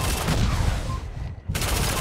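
Dense, continuous gunfire from the online shooter Lawbreakers, loud and close, with one brief lull before the firing resumes.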